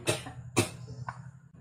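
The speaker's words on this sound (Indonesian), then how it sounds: "Punya pedas tu nampak dah batuk-batuk dah" Two or three short, close coughs burst out one after another, triggered by spicy tempoyak-stuffed mackerel, the last one softer, with a quiet background between them.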